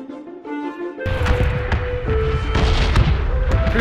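A bomb strikes a building in a video game, giving a loud, deep explosion with a heavy rumbling low end, followed by continuous booming blasts and sharp cracks that build over several seconds.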